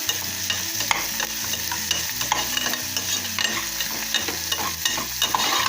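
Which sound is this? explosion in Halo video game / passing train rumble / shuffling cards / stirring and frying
stirring and frying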